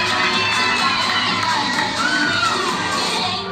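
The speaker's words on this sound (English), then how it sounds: "The crowd went nuts" A crowd at a senior show tap dance performance erupts in loud, sustained cheering, with high shouts and whoops layered over a dense roar that holds steady throughout.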